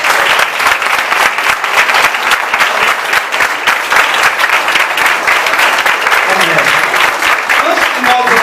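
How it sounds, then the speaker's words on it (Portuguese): A church congregation at a wedding claps together loudly and continuously for several seconds, dense rapid applause with voices heard beneath it. "nós vamos dar um aplauso ao Senhor Jesus"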